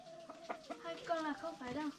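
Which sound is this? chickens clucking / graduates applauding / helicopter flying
chickens clucking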